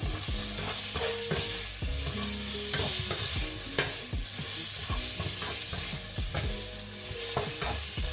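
Garlic and soup ingredients for chicken sotanghon soup get stirred in a pot, with a continuous sizzle under repeated spoon scrapes and knocks at an irregular rhythm.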